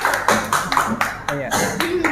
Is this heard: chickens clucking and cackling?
no